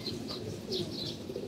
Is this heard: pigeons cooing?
yes